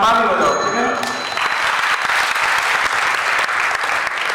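An audience at a Shrimad Bhagavat Katha religious discourse breaks into loud, dense clapping right after someone speaks, the applause carrying on steadily for about three seconds.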